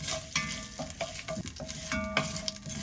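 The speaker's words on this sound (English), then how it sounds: "the next thing we're going to do is toast some fennel seeds right at the bottom" Fennel seeds toast in the bottom of a pot over leftover fond, crackling and sizzling steadily with scattered pops and stirring scrapes throughout, close up and no talking.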